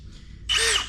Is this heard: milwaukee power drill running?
yes